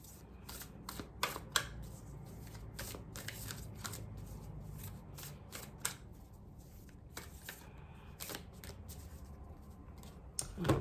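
Tarot cards are riffled and shuffled by hand at close range, with irregular crisp snaps and flutters scattered over a quiet room background and no voices.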